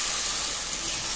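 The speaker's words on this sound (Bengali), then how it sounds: "মশলা কষিয়ে নেব" Spices frying in oil for a Bengali mutton curry, a steady close sizzle and hiss filling the whole moment without pause.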